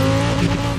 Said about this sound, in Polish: brzmi w porządku, jak jakieś Lamborghini z V10, tak?